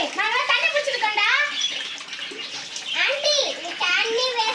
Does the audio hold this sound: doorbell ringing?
no